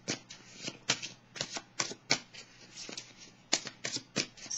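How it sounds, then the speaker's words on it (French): Tarot cards shuffled by hand in a quiet room, a run of soft, quick riffling bursts and flicks at an uneven rhythm, close and fairly faint, with no voices. "je vais piger une carte rose"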